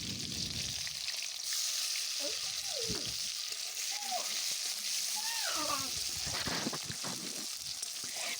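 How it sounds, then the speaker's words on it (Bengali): Chopped onion and whole cumin seeds fry in hot oil in a pan, giving a continuous close sizzle with occasional stirring, while a voice talks over it. "এর মধ্যে দেব গোটা জিরে, আর দিলাম পেঁয়াজ কুচি।"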